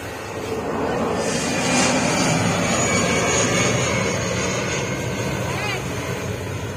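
An AirAsia airliner passes over a beach behind Bali's airport, a loud, steady broadband engine roar that swells slightly and holds throughout, with indistinct voices in the background.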